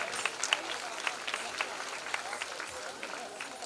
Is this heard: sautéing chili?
no